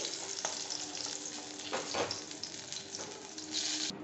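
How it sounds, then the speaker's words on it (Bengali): Pointed gourd (potol) pieces frying in oil in a pan, a soft steady sizzle broken by a few scraping stirs and clinks, fairly quiet and with no voices. "মোটামুটি তিন মিনিট মতন সময় নিয়ে পটলগুলোকে আমি ঠিক এইভাবে ভেজে নিয়েছি"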